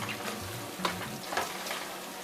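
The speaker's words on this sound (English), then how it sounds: "You keep on stirring." Tomato puree and fried onions being stirred in a pot for a chicken stew, with a steady soft sizzle and a few brief scraping strokes of the spoon, close by and without talk.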